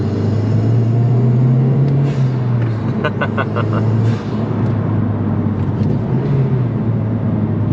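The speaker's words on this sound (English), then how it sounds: "The 6-speed manual has a pretty long throw, but I would say it's kind of notchy. going from second to third there." Mazdaspeed 3 with a 6-speed manual gearbox shifting from second to third, its engine droning steadily inside the cabin, the pitch rising, dipping briefly at the shift, then building again, under occasional talking.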